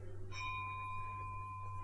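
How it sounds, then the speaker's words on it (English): A single bell struck once in a stage production of Macbeth, ringing with a sustained, steady tone that lingers faintly under a low background hum, with no talking. "The bell invites me."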